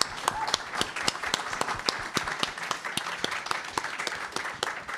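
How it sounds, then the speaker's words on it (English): Audience applause after a faculty reading and presentation, steady rapid clapping from a modest crowd, close and sustained across the whole stretch. "Can we have another round of applause for Nabil Gonzalez?"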